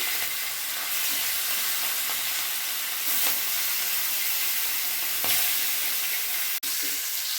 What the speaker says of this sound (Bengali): তেল গরম হয়ে গেছে এবার এক এক করে মাছগুলো দিয়ে দেবো